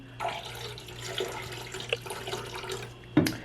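Lemon-scented cleaning liquid pours into a toilet bowl, making a steady, close trickle for about three seconds that ends in a brief, louder splash.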